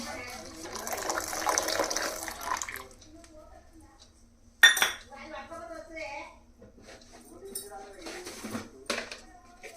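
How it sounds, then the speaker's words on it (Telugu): Milk is poured into a pot of homemade masala chai, a soft rushing splash for a couple of seconds, followed by a sharp clink of utensils and someone speaking over quiet kitchen background. "ఇప్పుడు పాలు వేసేసుకుందాం"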